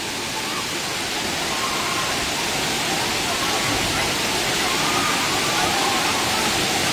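A waterfall roars in a steady, dense wash of falling water, loud and unbroken throughout, with no other sounds standing out.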